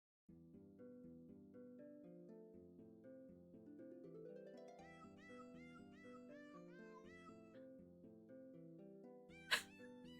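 Cartoonish cat meows set to playful cat music, a steady run of sung-like mewing tones over a continuous melodic backing, ending with a sharp sneeze-like burst near the close.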